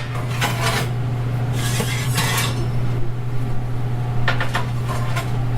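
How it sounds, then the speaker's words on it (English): Metal oven plates being lifted out one at a time and set on top of a stove, heard as clattering, scraping and rattling bursts over a steady low electrical hum, with no talking. "you remove each plate one by one, sit them on top of the oven"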